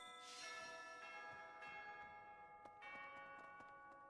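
A chiming bell jingle from the Fire Emblem theme in the video game Fire Emblem: Three Houses rings out clearly, with several struck tones whose long metallic overtones overlap and ring on, heard alone with no talk.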